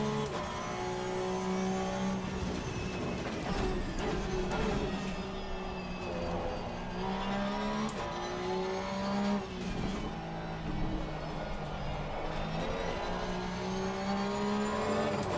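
Porsche Cup race cars lapping the Nürburgring in Assetto Corsa Competizione, engines droning and shifting continuously at close range with rising and falling pitch, dense overlapping car sounds throughout.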